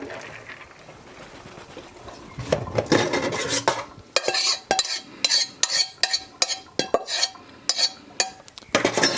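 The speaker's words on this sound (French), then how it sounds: "On égoutte les lentilles." Cooked lentils are drained in a kitchen, with a rush of wet pouring followed by a series of sharp metallic clinks and scrapes of a pot and utensils close by.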